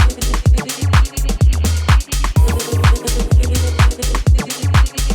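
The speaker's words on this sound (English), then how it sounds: "open hat that's always on the offbeat, which would sound like this." House track with an open hi-hat on the offbeat, a hissing hat between punchy four-on-the-floor kicks and bass in a steady, loud groove, with no voices.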